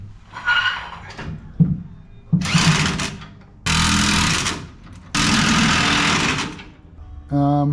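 An impact wrench tightens bolts on a Rough Country 6-inch lift kit for a Ford Super Duty truck, loud close bursts of rattling hammering in four separate runs, each one to two seconds long, with short pauses between them.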